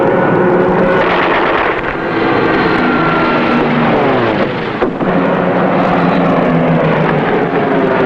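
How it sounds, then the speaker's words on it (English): Loud aircraft engines drone overhead, their pitch sweeping as planes pass close by, continuous and heavy throughout. "Planes off the port bow."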